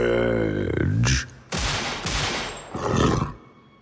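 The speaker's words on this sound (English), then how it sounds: "Gunshots." A loud burst of rapid gunfire erupts after a brief tonal sound in a Batman audio drama, followed by a couple more heavy volleys that fade out.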